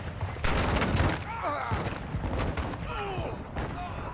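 Video game gunfire: bursts of rapid shots and thumps crackle through the scene, with radio-style voices and chatter mixed in among the shooting.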